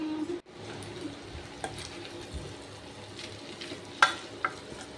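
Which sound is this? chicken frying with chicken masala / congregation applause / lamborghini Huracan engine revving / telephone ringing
chicken frying with chicken masala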